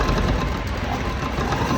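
Sewing machine running steadily while stitching a V-shape on a hooks patti, a dense continuous mechanical whir close by with no pauses.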